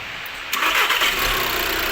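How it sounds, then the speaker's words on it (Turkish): A modified car engine is cranked and fires up abruptly after a brief quiet moment, then settles into a loud, steady idle close to the microphone. "Bas marşa. Direkt çalışıyor, direkt çalışıyor."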